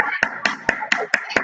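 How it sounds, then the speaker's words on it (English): Children in an online playgroup class clap their hands in six sharp, evenly spaced claps, with a small group's sound coming through a video call. "Everybody, please clap for Adyasari."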